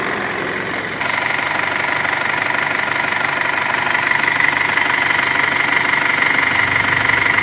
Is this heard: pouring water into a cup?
no